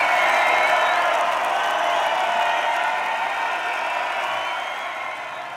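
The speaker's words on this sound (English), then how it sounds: "s'il vous plaît, un tonnerre d'applaudissements pour Mr. Malik." A large open-air festival crowd at a live concert applauds and cheers, a broad wash of clapping and whoops that swells at first then gradually fades.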